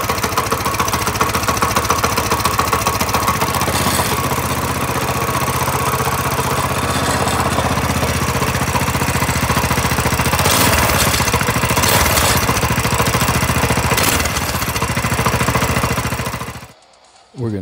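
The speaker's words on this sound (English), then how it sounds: "Let's fire it up real quick so we can see what it sounds like before I pull this old muffler off." A Coleman CT200U-EX mini bike engine with its stock muffler runs loud and close at a steady, rapid idle for about sixteen seconds before cutting off abruptly.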